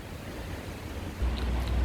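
Steady wind gusting through a garden in late spring, a broad rushing roar that swells louder about two-thirds of the way in and buffets the microphone, with no voices.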